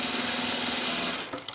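A serger stitches a dense, narrow edge on dress fabric, a steady close-up mechanical whir that cuts off near the end, followed by a few faint clicks.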